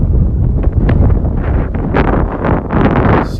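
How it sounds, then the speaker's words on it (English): Steady wind buffets the microphone on a beach in North Naples, Florida, a continuous rumbling gust that swells and eases without pause and stays loud throughout. "Nice breeze blowing, as you can hear"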